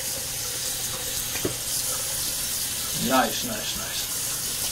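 A bathroom tap runs steadily as someone rinses off after a straight razor shave, with a soft continuous hiss of water and one brief spoken word over it.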